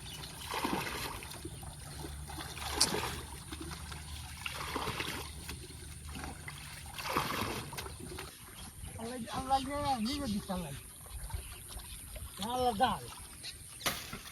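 Rainwater is scooped and splashed out of a boat in repeated, uneven watery bursts close by, followed by someone talking over quieter splashing.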